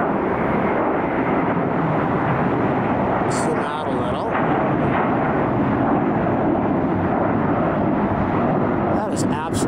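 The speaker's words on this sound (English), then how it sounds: "I hear a plane, so let's try to get this." A plane flies near LAX airport as a broad, steady roar that fills the whole stretch, loud and fairly close, while a person speaks briefly over it.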